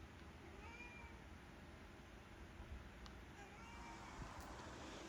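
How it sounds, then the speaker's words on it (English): A cat named Ivy meows near a rototiller carburetor repair in a workshop, a few faint thin meows rising over steady broadband background noise with a low rumble, no talking. "So you hear meowing, that's who's doing it."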